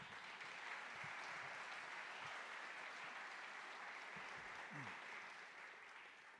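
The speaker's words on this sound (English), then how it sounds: "Let's give them a round of applause" Sustained audience applause fills a school senior awards night hall, a dense steady wash of clapping lasting several seconds and fading slightly at the end, with faint voices beneath.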